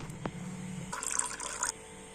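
Water poured from a tea glass into a pressure cooker holding mutton with salt, turmeric and oil; a close splashing pour lasts about a second after a brief knock.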